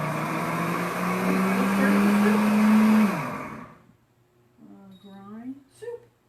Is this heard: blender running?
yes